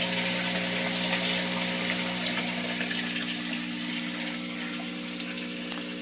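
Steady water pump draining a fish tank for a large water change, a continuous hum with rushing, gushing water, close and unbroken throughout.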